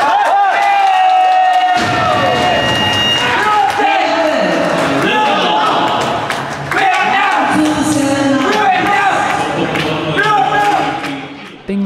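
Vietnam fans in a stadium fan zone at the 2023 SEA Games in Cambodia cheer loudly and steadily, with shouts, chants and thuds rising out of a dense crowd roar that holds for the whole stretch while people talk nearby.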